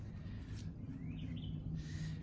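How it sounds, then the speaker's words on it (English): Birds chirp faintly outdoors on a morning, a few thin, short calls over a steady low background rumble. "You can hear the birds."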